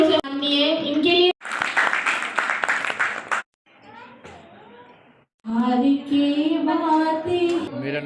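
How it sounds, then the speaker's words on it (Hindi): Applause honoring women at a consumer-protection committee ceremony in Uttar Pradesh: a burst of dense clapping for about two seconds, framed by a voice speaking before and after. "मैं चाहूंगी जोरदार तालियों से मानिए इनके लिए"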